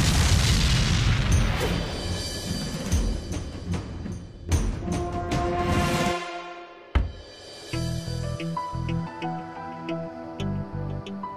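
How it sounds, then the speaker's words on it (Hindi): An electrical transformer blows up with a heavy boom, followed by a roaring, crackling burst and a sharp thud, then a steady tonal hum with ticking pulses as the noise settles. "अरे पिछले हफ्ते तो ट्रांसफार्मर उड़ा था, फिर उड़ गया।"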